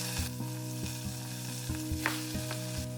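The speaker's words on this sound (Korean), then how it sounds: "팬에 기름을 두르고 꼭 짜준 김치를 넣고 볶습니다." Squeezed kimchi fries in an oiled pan, giving a steady close sizzle punctuated by light clicks and taps of stirring.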